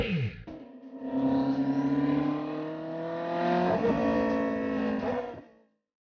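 A Koenigsegg Jesko engine accelerates on a drive, a loud, close, steady rising whine and roar that climbs through gears with a brief shift dip, then cuts off abruptly at the end.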